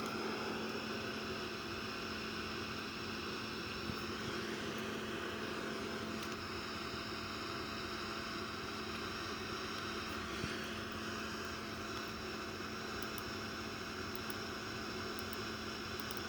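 Steady airliner cabin drone of a Boeing 787 cruising at altitude in a flight simulator game, a constant broadband hiss and hum with faint tonal whines throughout, no talking.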